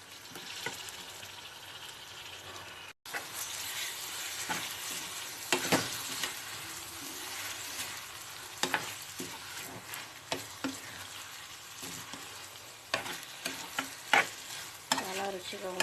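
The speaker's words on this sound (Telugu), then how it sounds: "కొంచెం అల్లం వెల్లుల్లి పేస్ట్ పచ్చివాసన అయ్యే వరకు వేయించాలి." Ginger garlic paste frying in a pan while being stirred, a steady close sizzle broken by repeated scraping and clacking of the spoon against the pan, with no speech throughout.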